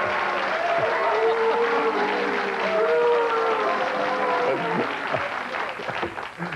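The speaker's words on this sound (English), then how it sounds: "I will personally applaud." Studio audience applause on a 1994 talk radio show, a dense, steady wash of clapping that holds throughout, with voices and a tonal sound mixed in beneath it.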